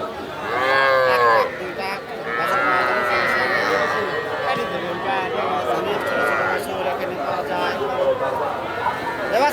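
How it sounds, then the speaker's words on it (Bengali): Cattle and calves moo loudly and repeatedly at a busy rural livestock market, with long drawn-out calls overlapping while people talk and chatter nearby throughout. "অভাব নাই অনেক বাছুর"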